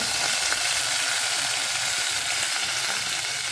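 Chillies, curry leaves, garlic and onion hiss loudly as they hit hot oil for a tempering, giving a steady, dense sizzle that continues without break and without talk.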